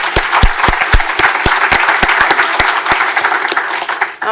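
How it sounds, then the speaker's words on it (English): Audience applause at a community event on youth mental health, a dense burst of clapping with sharp individual claps standing out, loud and steady for the whole span. "Let's give you a round of applause."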